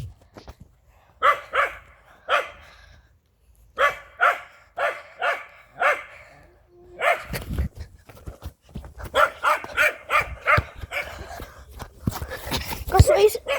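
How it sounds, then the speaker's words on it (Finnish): A dog barks in repeated short bursts close by, several rounds of barks with pauses, while people talk in Finnish over and between them. "tuossa haukkuu koira"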